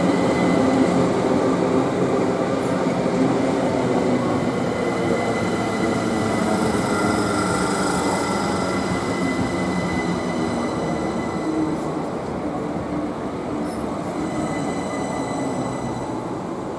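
GWR Class 387 electric train, paired with a second unit, passing Goring & Streatley station on the Great Western Main Line, a loud steady rumble and roar of wheels and motors filling the whole stretch, fading slightly toward the end.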